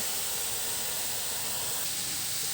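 A constant, even hiss of a coconut and jaggery mixture frying in a hot pan, steady for the whole moment with no talking.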